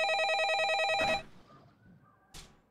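A telephone rings for a call with a warbling electronic trill that lasts about a second and then cuts off, followed by a short click. The sound is close and clear, with no voices.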